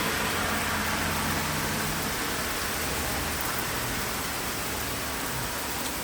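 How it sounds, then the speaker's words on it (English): Steady rain pours outdoors in summer weather close to autumn, an even, unbroken hiss that stays loud and constant throughout with no voices. "Raining time."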